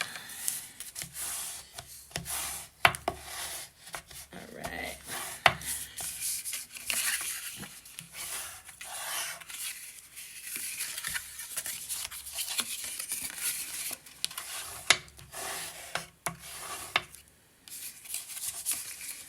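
A bone folder scores and rubs across card stock in close, faint scraping strokes with soft taps and paper handling, no voices.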